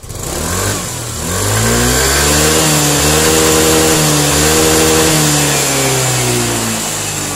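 A Yamaha scooter engine is revved hard at full throttle: a loud, close mechanical roar that climbs and holds at high revs for several seconds, then eases off slightly, with no talking.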